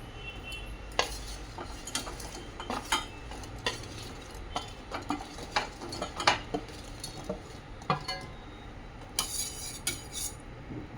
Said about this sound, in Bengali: এখন দিয়ে দেবো এর মধ্যে চিনির রসের মধ্যে সব মিষ্টিগুলো।